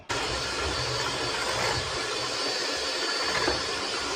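An electric hand mixer whirs steadily through cake batter for a pineapple upside-down cake, a close, continuous motor drone with a hissy, gritty texture and no talking.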